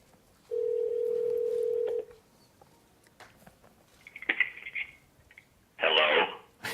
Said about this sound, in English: I can just dial right here, and it's going to dial. My Mac's going to actually make a speakerphone call through my phone.